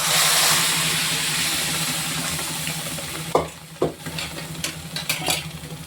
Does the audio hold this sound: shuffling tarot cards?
no